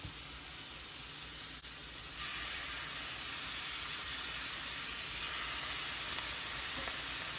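Grouse pieces fry in browning butter in a very hot cast iron skillet, giving a loud, continuous close sizzle that swells after a short clatter of pieces going in.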